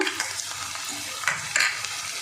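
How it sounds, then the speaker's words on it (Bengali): Chopped onion with garlic paste frying in a pan gives a steady close sizzle, with a few sharper scrapes of a stirring spoon over it and no talk. "পেঁয়াজ কুচিটা একটু 2 মিনিট ভাজা করে নেব"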